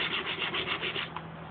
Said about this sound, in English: now I've been kind of working on sanding it with some of my sanding blocks